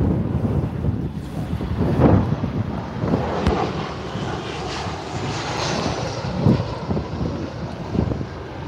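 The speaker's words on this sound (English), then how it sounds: "First arrival, Ryanair 73 from Stockholm." A Ryanair airliner arriving from Stockholm lands at Liverpool Airport, its engine roar rising and falling at a distance under heavy wind buffeting on the microphone, with a few louder gusts along the way.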